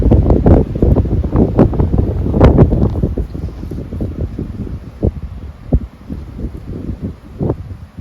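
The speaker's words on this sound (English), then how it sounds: "ooh, it's getting windy." Gusty wind buffets the microphone in rough, uneven bursts, loud and close, with no voices.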